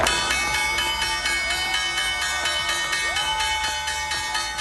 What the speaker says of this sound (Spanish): el tradicional toque de campana que marca el cierre de la sesión bursátil en la Bolsa de Nueva York